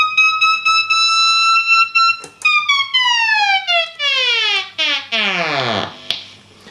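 A Shin-ei Shaftesbury Squall guitar pedal's electronic siren-like tone holds steady, then repeatedly sweeps downward in pitch, dropping lower and lower before cutting off abruptly.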